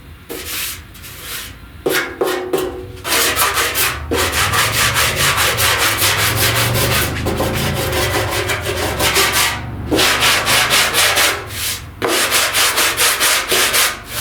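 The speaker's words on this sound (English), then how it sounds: "I'm going to block the rest of my filler, and I'll come back and we'll 80 grit this" Block sanding body filler on a 1969 Chevrolet C10 front fender patch panel: steady, loud back-and-forth rasping strokes in repeated bursts with short pauses, close by and with no talking.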